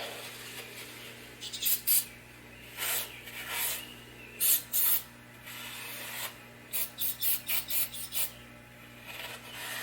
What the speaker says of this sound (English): I'm gonna just spray a little of this crap on there,